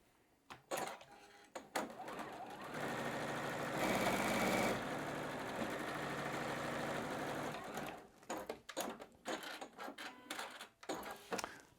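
A sewing machine stitches quilt block fabric pieces, whirring steadily for about five seconds in the middle, with clicks, bumps and fabric handling before and after.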